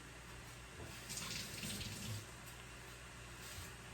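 Peeled garlic cloves rinsed under a running kitchen tap, a soft steady stream of water splashing faintly with slight swells as the cloves are moved about.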